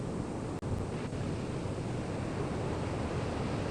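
Steady broadband wash of ocean surf breaking on a sandy beach, continuous and fairly even with a brief dropout near the start, wind noise on the microphone blending in.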